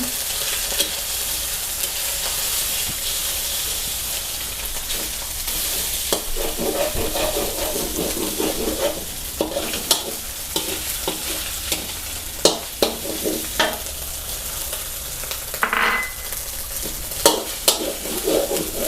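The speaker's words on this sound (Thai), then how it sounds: "ผัดเครื่องแกงให้หอม" Thai curry paste stir-fried in a pan for pork belly prik khing, a steady sizzle with repeated sharp scrapes and taps of a utensil against the pan, close and fairly loud, no voices.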